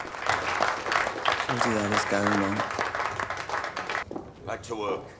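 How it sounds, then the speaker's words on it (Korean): Family members in a Korean drama scene break into scattered clapping for an aunt arriving late to work. The applause runs throughout and is mixed under talking voices, then drops away near the end as a brief exchange of speech follows. "요즘 부쩍 생각이 많아진 고모는 웬일로 늦게 출근하는데 모두 박수를 치죠"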